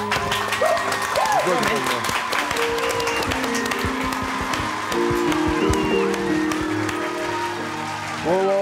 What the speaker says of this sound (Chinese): 掌声鼓励起